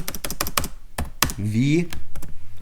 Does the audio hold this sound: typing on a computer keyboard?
yes